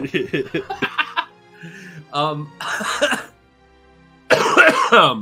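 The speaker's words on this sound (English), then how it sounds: "sorry about my cough, Master" A person coughs several times amid laughter and chuckling during a Star Wars tabletop roleplaying session, with people talking around the coughs.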